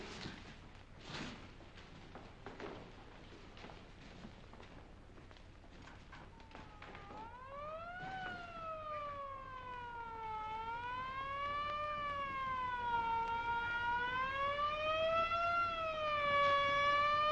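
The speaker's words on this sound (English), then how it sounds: "I was just curious about that siren." An ambulance siren passes in a city street, fading up from a distant murmur into a loud wailing tone that rises and falls in slow sweeps and keeps growing closer over a steady traffic rumble.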